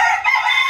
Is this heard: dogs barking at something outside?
no